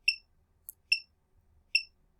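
Three short, sharp electronic beeps from a microcontroller at a steady interval, high-pitched and clean, with near silence between them.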